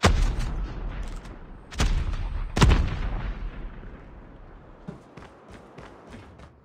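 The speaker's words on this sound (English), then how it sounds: "Grenade out!" Grenade blast and gunfire in the mobile shooter game Call of Duty Mobile: several sharp, loud explosive bursts in the first three seconds, then fainter scattered shots and clicks fading in the background.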